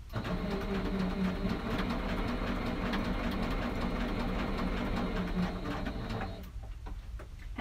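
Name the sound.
sewing machine stitching raw edge applique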